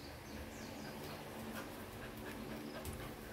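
A Belgian Malinois dog pants faintly and lets out soft whimpers against a dense, noisy background, the sounds quiet and continuous throughout.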